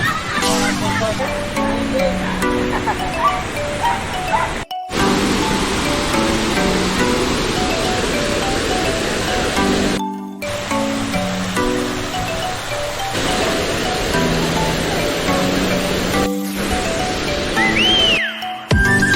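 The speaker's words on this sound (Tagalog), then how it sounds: "ang lakas ng alon ng tubig" Water rushes continuously at the Tala River falls in Cavite, a loud broad roar under music and a few brief voices, with short cuts in the sound.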